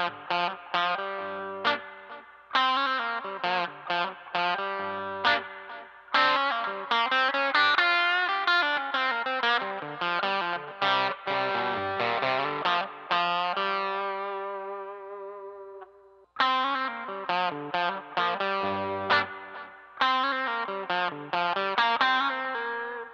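Electric guitar played through a Klon-style overdrive clone, compared with an Archer Icon pedal: overdriven chords and single-note phrases with a ringing sustain, a long fading chord and a brief pause, alone and close.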